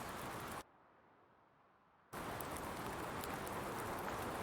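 Steady, dense rain hiss falls across the Emerald Coast map in a video game set in Florida, briefly dropping to a quiet lull before the downpour resumes at full strength.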